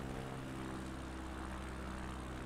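Steady propeller-driven aircraft engine droning loudly and continuously during a takeoff run in a flight simulator game, with a strong low harmonic hum and no voices.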